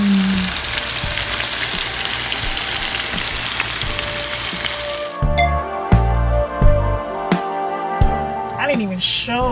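Flanken style short ribs frying in a hot pan, with a loud continuous sizzle that crackles up as meat is laid in, plus utensil clinks and a few thuds later on.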